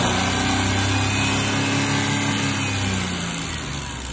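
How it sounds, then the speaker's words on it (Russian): A Daewoo Matiz 0.8 L F8CV engine running steadily at 3000 rpm, with a loud, close, continuous mechanical whine and hum and no other sounds. "Работа двигателя 3000 оборотов."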